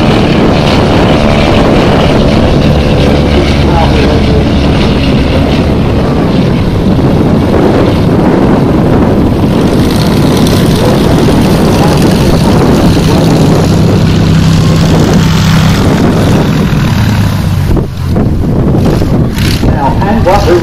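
A propeller airplane roars through its takeoff roll down a runway, a loud, constant engine drone mixed with heavy wind buffeting, with a voice talking faintly underneath.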